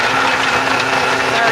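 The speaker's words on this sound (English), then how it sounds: "I'm going to blend this milkshake up." A blender whirs steadily and loudly, blending a mango milkshake in one continuous, dense burst of motor and churning noise.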